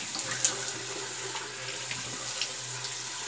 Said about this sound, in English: A little rinse and spit, sorry.